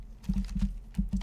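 Keys clacking on a computer keyboard as a search is typed, a few quick irregular taps in small bursts, close and fairly quiet with no voices.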